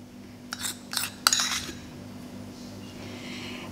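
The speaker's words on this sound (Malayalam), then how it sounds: "ഇത് നന്നായിട്ട് മിക്സ് ചെയ്യുക." A salad of chicken, apple and leaves dressed with yogurt is tossed in a bowl: a short cluster of close, bright clinks and scrapes from utensils, followed by near silence.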